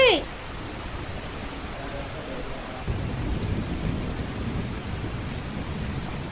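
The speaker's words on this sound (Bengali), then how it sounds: "এত মুষলধারে বৃষ্টি হচ্ছে, বজ্র পড়ছে" Heavy rain pours steadily while a low rumble of thunder rolls in partway through and lingers beneath the downpour.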